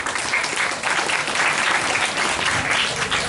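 Dense, loud audience applause at an Islamic lecture gathering in Banyuwangi, greeting competition winners; many hands clap steadily and close for the whole stretch, with a faint murmur of voices underneath.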